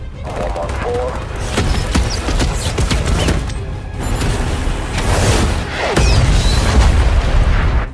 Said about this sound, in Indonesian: Reaper pun memberikan bantuan dengan meluncurkan misil ke arah para militan tersebut.